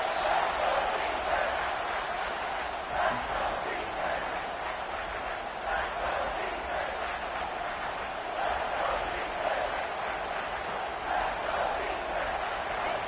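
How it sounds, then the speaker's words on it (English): Football stadium crowd roaring steadily for the defense on a big third down, a broad sustained wash of cheering that stays loud throughout, with a play-by-play commentator talking over it. "Big third down as the crowd gets behind this defense."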